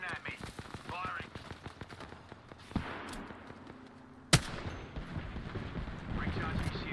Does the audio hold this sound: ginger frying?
no